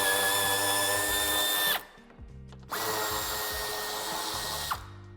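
Power tool driving out bumper screws on a 2022 Maserati Grecale, two loud sustained whirring runs separated by a short pause, the second ending with a brief squeal as the screw frees, close up with no talk.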